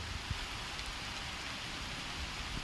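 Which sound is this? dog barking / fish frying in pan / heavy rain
heavy rain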